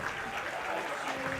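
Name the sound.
football crowd applauding as injured player is wheeled off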